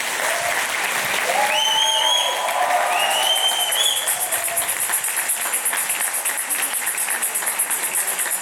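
Sustained audience applause fills a hall after a personal development talk at Digital Scholar, a steady dense clapping texture running throughout with some cheering tones and background voices mixed in.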